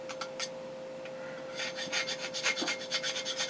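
A file or sandpaper rasps back and forth over a piece clamped in a vise, giving a close series of gritty rubbing strokes that grow quicker and more regular, with a steady electrical hum underneath.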